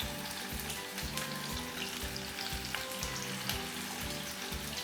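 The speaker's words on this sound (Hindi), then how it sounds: "फ्लेम मीडियम ही रखनी है क्योंकि कीमा कच्चा है तो थोड़ा टाइम लगेगा इनको पकने में" Raw minced meat seekh kebabs fry in a pan over a medium flame, a steady close sizzle with a regular pulsing rhythm and no talking.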